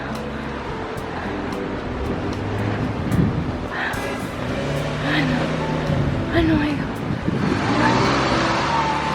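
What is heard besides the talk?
loud car engines revving in street traffic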